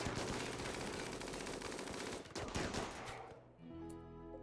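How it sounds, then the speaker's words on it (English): Dense automatic gunfire rattles continuously in a RimWorld firefight, loud and sustained crossfire that cuts off abruptly near the end, leaving a softer tonal hum behind. "Now we got kind of a crossfire going here."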